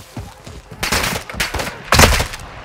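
Bursts of automatic gunfire in Call of Duty: Modern Warfare 2 DMZ, three loud rattling volleys close by, separated by short pauses, with faint game radio chatter beneath.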